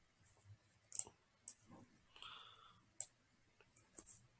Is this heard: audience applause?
no